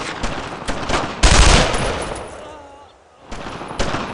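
Heavy gunfire in Brothers in Arms: Road to Hill 30, a World War II shooter battle near German barracks, with bursts of loud automatic fire and dense volleys, a brief lull, then renewed shots.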